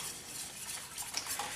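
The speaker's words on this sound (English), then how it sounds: "I'm just going to whisk this and whisk it" Hot cocoa with milk whisked briskly in a small pitcher, a steady soft swishing with faint metallic scraping, close and fairly quiet, continuous throughout with no voices.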